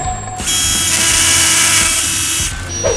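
A Bosch cordless rotary hammer drill runs loud and steady for about two seconds, with a dense whirring buzz that starts abruptly and cuts off sharply, with a brief quieter mechanical noise before and after.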